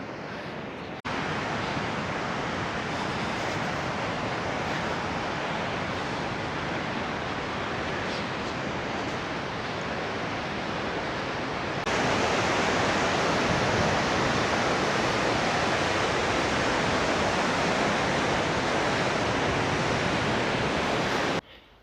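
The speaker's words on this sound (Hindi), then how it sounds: "ट्रेब्यूंग के रास्ते पर झरने आपको बहुत ज़्यादा मिलते हैं।" A glacier-fed waterfall on a high mountain trekking route roars in a dense, steady rush of falling water, growing noticeably louder partway through, with no voices.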